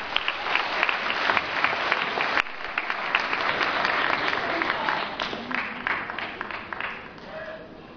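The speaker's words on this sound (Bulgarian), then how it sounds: "Е това, ако не заслужава вашите аплодисменти," Theatre audience applauding a can-can dance number, a full, steady wash of clapping that fades toward the end as a voice begins.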